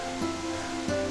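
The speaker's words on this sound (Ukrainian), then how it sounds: "це Джуринський водоспад! Це найвищий рівнинний водоспад України!" A continuous roaring rush of falling water fills the clip, steady and broad, heard from near Dzhuryn Waterfall in Ternopil region, Ukraine.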